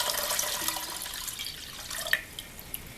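Redbud juice poured into a pot for jelly: a steady watery splash and trickle with a few drips near the end, close and moderately loud, with no talking.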